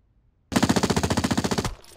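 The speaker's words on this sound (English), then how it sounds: "Where do those shots come from?" Rapid automatic gunfire from the Rogue Spear video game, a loud burst of about fifteen evenly spaced shots in quick rhythm, ending abruptly and followed by a short faint tail.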